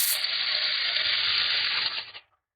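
Chopped onions, two medium ones, hit a hot pan of caramelizing sugar for a fish curry, setting off a loud, steady sizzle that holds for about two seconds and then quickly dies away.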